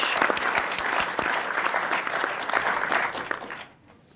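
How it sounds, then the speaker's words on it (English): An audience at a science symposium claps in sustained, dense applause for several seconds before it quickly fades out. "Please give a round of applause for everyone."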